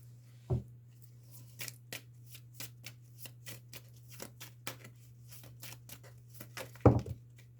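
Tarot cards are shuffled by hand in a quick series of crisp riffling flicks, with a couple of louder taps at the start and end.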